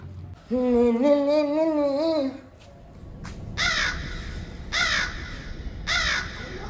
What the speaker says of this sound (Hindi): कौवा आकाश में उड़ रहा हूँ तो आश्चर्य वाला बात है।